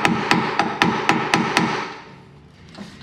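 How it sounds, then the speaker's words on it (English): Hammer tapping a rusted Ford F150 driveshaft at the spline where it meets the U-joint: six sharp metallic taps at an even rhythm, close and fairly loud, then quieter background. "So I'm just going to tap it here."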